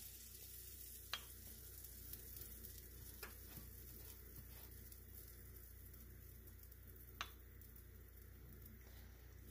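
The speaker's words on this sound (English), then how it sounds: "you hear that sizzling?" A faint, steady sizzle of biscuits frying in a pan, broken by a few soft pops and clicks.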